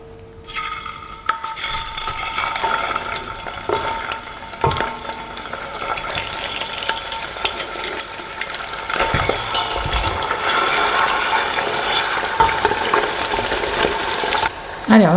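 Pork pieces for rillettes dropped into hot fat in a pot, a loud, steady sizzle and crackle of frying lasting throughout, with a few clinks and stirring noises and no talking.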